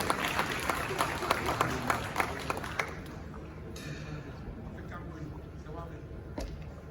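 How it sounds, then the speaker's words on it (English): A big round of applause at a media awards ceremony in Ghana, crowd clapping loud and dense at first with sharp individual claps, then thinning and fading into a quieter room murmur. "Shall we do another big round of applause for him?"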